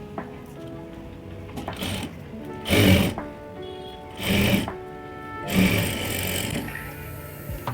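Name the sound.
sewing machine topstitching blouse sleeve lining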